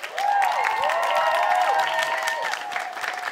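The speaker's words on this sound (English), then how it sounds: "Round of applause for these guys as well" Audience applause with some cheering fills a school performing arts production of the musical 'Little Shop of Horrors', sustained and fairly loud throughout, with voices mixed in.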